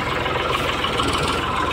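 A farm tractor engine runs nearby with a loud, steady, unbroken drone and rumble, no talk over it.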